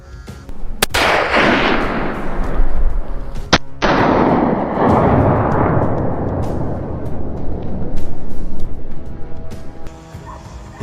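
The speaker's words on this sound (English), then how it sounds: "With a single shot, the beast collapsed on the spot." A hunter's rifle fires at a wild boar in the bushes near a farm. A couple of sharp, loud cracks ring out over a dense, rough wash of outdoor noise that continues through the rest of the clip.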